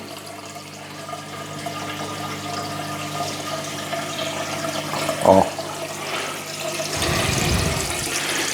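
AquaNova NBF internal aquarium filter without its plug, spraying water upward in a steady splashing, hissing stream that swells louder near the end, with a brief clunk partway through.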